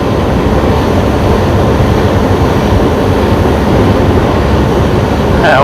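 A train rumbles past a truck on a highway between Monroe Center, Illinois and Minneapolis, a steady loud broadband roar of wheels and rail cars that holds for the whole stretch, picked up by the truck's dashcam.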